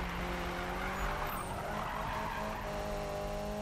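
Nissan Silvia drifting through a turn in Need for Speed 2015, with a steady engine drone and sustained tire squeal running continuously and loud throughout, no voices.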